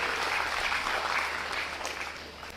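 An audience claps together in a sustained burst of applause that stays steady for a moment and then fades slightly, heard from within a hall with no talk over it.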